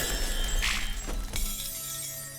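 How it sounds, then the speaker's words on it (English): Ice breaks apart in Hands of Necromancy II with a loud shattering crash followed by a second cracking burst, over steady game ambience, without any talking. "that ice shattering is still kind of loud"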